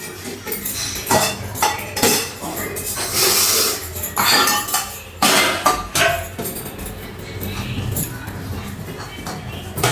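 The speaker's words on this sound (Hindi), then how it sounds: "उसके बाद मैं जल्दी से फटाफट से बर्तन धोऊंगी।" Dishes, pots and cutlery clattering and clinking as utensils are quickly washed in a home kitchen, close and busy, with irregular metallic knocks and scraping, and a voice faintly in the background.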